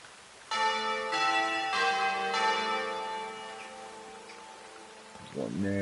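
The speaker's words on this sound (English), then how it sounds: "You can activate the bells." Bell tower bells in the video game Dreams ring out in several loud, resonant strikes spaced about a second apart, each ringing on and decaying slowly.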